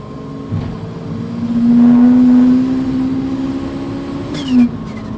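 A turbocharged Volkswagen Golf Rallye pulls hard at high speed in third gear, its engine droning loudly and steadily from inside the cabin, swelling midway, then easing, with a short sharp whine near the end.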